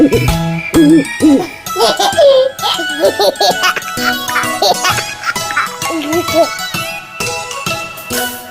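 A voice imitates an owl's hoot over bright, tinkling music, with spoken words and playful vocal sounds mixed in.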